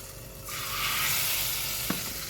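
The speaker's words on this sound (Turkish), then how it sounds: "Şöyle de yağsını cızlattık." Hot oil sizzles steadily over karnıyarık, stuffed fried eggplant cooking in a pot, a close, loud hiss that swells and then holds, with one small tap near the end.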